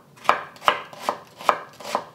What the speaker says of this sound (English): I'm using 1/2 onion that I'm going to slice up